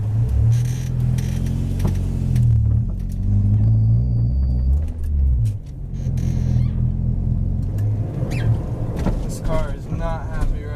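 A struggling car engine rumbles low and steady throughout, loud and close, with brief mechanical clunks and a few spoken words over it.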